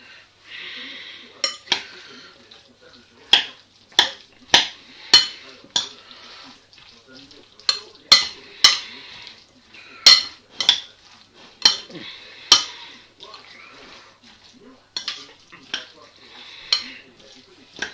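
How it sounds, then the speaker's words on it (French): Ingredients for a Provençal recipe are stirred in a pan, a sharp run of repeated utensil scrapes and clacks against the metal with a soft sizzle underneath, close and irregular in rhythm. "on va commencer à mélanger"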